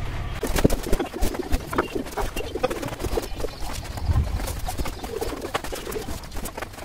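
Pet pigeons cooing in a coop, low throaty coos repeating close by amid light rustling and scuffling of birds, with no talking.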